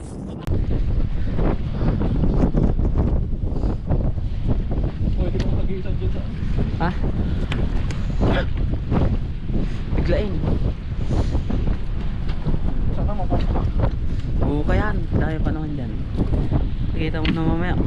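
Strong wind roars across the microphone aboard a fishing boat at sea, a loud, constant buffeting rush with water wash beneath, while people talk intermittently over it.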